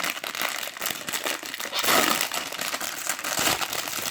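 A Panini Euro 2020 sticker pack wrapper is torn open and crinkled, giving continuous, close, sharp rustling with no talk.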